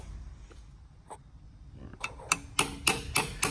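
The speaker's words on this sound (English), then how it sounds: "we're gonna hammer the screwdriver in there" Several sharp metallic hammer strikes on a screwdriver driven into a Toyota Highlander wheel bearing sleeve, starting light and growing louder into a quick series of ringing blows near the end.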